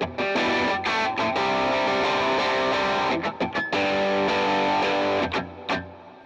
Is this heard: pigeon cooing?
no